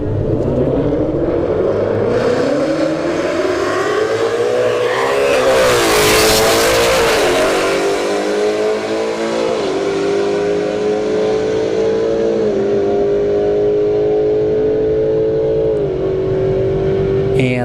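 Drag race at a motorsports park: a Ford Mustang S550 against a Golf GTI launching from the line, loud engines roaring and revving as they accelerate down the strip, with a sustained rising roar throughout.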